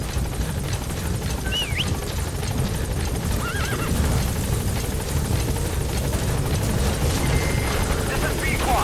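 A helicopter in the video game Metal Gear Solid 5: The Phantom Pain drones with a constant loud rotor roar, while a horse whinnies briefly and game voices speak over it.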